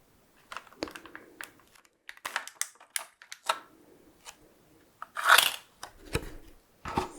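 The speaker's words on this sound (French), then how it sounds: "Le bruit du plastique est vraiment incroyable." Crinkling, crackling plastic handled up close, with sharp snaps and rustles in irregular bursts as plastic Brawl Stars mystery boxes are pulled open.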